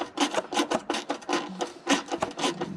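A 1/4 inch drive flex-head ratchet loosening bolts while installing sliders on a Land Cruiser LC200: a quick run of close, rasping clicks in repeated short bursts.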